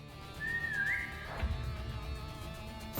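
A short rising whistle in the Deltarune video game, bending upward and then cut off, set over a steady backdrop of game music and sound with no voices.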